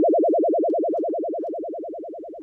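Steady FM synthesis tone on a 500 Hz carrier, its pitch warbling evenly between low and high about ten times per second; a single continuous electronic sound, alone and fairly loud, slowly fading across the clip.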